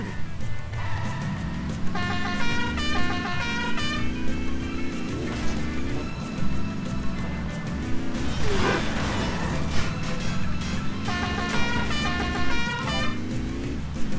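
Car horn in the Simpsons Hit and Run video game, honking in repeated short toots over steady game music and driving noise, loud throughout with no talking.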